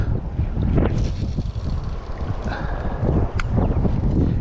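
Wind gusting over open water during a bass fishing outing, a steady rushing buffet on the microphone with gusty swells and faint splashes, no talking.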